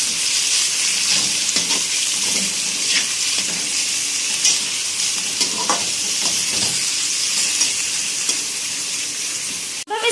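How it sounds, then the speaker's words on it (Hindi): Chicken pieces sizzle and fry in a pan for chicken spaghetti, a steady loud hiss with occasional stirring scrapes throughout, no talking. "अब हम इसमें चिकन ऐड करेंगे। अब हम इसको 2-3 मिनट के लिए भून लेंगे।"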